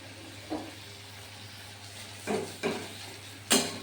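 Ginger paste fries with biryani masala in a pan under a soft steady sizzle, with a few brief stirring scrapes and clinks, the last one sharper, and no talking.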